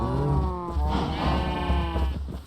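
A Minecraft sheep lets out a single drawn-out, wavering bleat, close and clear, from a SkyBlock game world.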